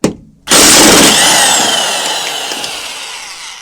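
A tool spins a 16 mm socket on the strut top bolts of an Audi A4 B5. After a brief click it gives one loud, close whirring burst that slowly fades over a few seconds.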